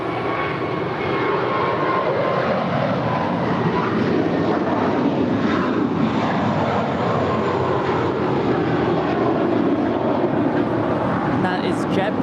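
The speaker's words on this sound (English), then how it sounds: "That is JetBlue 1388 on its way to Boston with the green tail." A JetBlue airliner with a green tail, bound for Boston, passes at LAX with a loud, steady jet roar that fills the whole stretch without fading.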